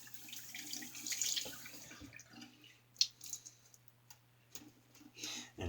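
A deteriorating shaving brush is rinsed under running tap water, which splashes faintly and unevenly with a few sharper drips and taps.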